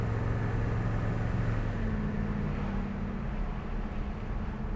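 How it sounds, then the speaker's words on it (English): A 1970 Dodge Challenger T/A 340 Six Pack accelerating on the road, its engine a steady low drone with a slowly rising tone, heard from inside the car with no talking. "Car has good acceleration."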